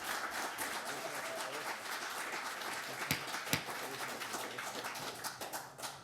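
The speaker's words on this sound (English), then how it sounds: "Please hold your applause." An audience at a city planning commission meeting claps steadily and fairly loudly for several seconds, a dense patter of many hands with a few sharper claps standing out.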